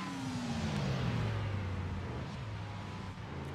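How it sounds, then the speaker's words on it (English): The number 84 race car in a GT championship round downshifts on track, a loud engine whose pitch steps down through the gears, with race noise continuing steadily over several seconds. "There you can hear the 84 downshifting."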